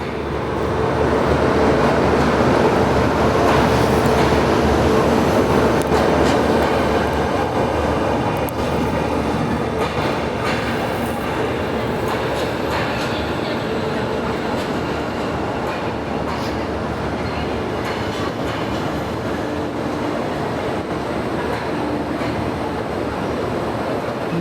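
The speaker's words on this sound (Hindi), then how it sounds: "सचखंड सुपरफास्ट एक्सप्रेस में ट्रेन प्लेटफॉर्म पे स्टैंड हो रही है।" Sachkhand Superfast Express with a WAP7 locomotive at the platform, a continuous low rumble of rolling stock with faint clicking and occasional squeals, steady and fairly loud throughout.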